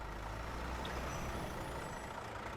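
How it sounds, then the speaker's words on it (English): A truck's engine runs in gear while the service brakes hold it still, giving a loud, steady broadband rumble close by, with no voices. "We put the truck in gear, and apply the service brakes."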